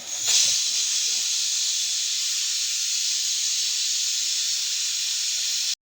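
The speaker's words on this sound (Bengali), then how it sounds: "প্রেশার কুকারে এত আওয়াজ হলো যে কিছুই বোঝা গেল না।" A pressure cooker lets out a loud, continuous steam hiss that holds steady for several seconds before cutting off abruptly, with a brief clatter at the start.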